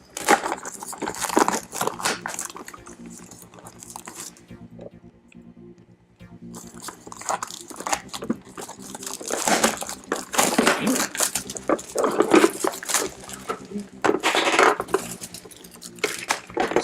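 Crinkling and crunching of plastic wrapping pulled off a new Aqueon QuietFlow 30 aquarium filter for a 29-gallon tank, irregular crackling bursts close by that pause briefly midway, with occasional talk.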